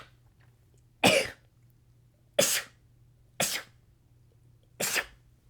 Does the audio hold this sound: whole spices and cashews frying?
no